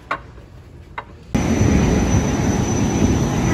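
A small passenger airplane's engine roar kicks in abruptly after a quiet moment with a couple of soft taps, then holds as a loud, steady cabin drone.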